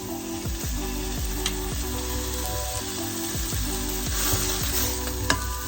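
Chops frying in a pan, a steady close sizzle with occasional scraping and stirring, alone without talk.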